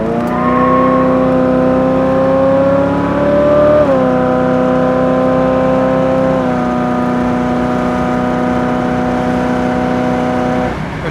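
A 1969 Chevrolet Camaro in Yenko style accelerating to 75 mph, its engine droning loud and close with a steady rising tone, dropping briefly at each gear change.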